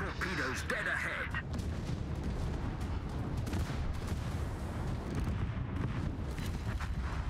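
Warship guns booming in the World of Warships naval battle game, dense rumbling salvos and explosions layered over a constant roar, with voices talking over the gunfire.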